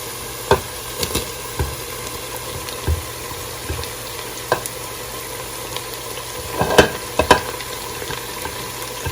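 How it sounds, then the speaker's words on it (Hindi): Garlic sautés with onions in hot oil in a pan, giving a loud continuous sizzle with scattered sharp clicks and scrapes as the mix is stirred. "अब मैं ये लहसुन ऐड कर रही हूँ।"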